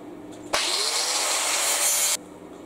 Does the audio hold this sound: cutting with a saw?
yes